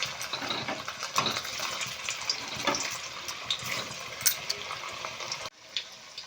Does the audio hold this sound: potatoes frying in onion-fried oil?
yes